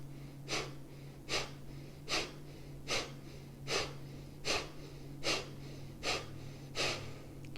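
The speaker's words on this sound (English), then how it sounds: "Exhale sharply, pulling in the belly." Nine sharp, forceful nasal exhales from yoga breathing practice come in a steady rhythm about every 0.8 seconds, close and clear over a low background hum.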